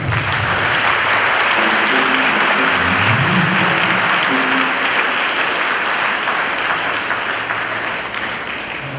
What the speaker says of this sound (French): Je vous demande, Franck Léva, d'applaudir pour nos frères